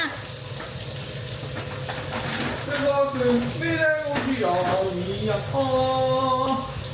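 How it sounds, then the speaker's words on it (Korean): Spinach, fish cake, mushrooms and carrots stir-fried in a pan, a steady sizzle with scraping stirs, under a voice talking and humming throughout. "시금치도 볶고 어묵도 볶고 버섯도 볶고 당근도 볶고"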